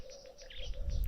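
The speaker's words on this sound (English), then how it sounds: "the doves are calling." Soft coos of emerald spotted wood doves and Cape turtle doves repeat in a low, steady rhythm at a waterhole, fairly faint and distant, over a gentle low rumble of background noise.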